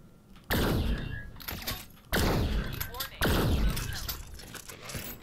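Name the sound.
shotgun fire in VR video game Vertigo 2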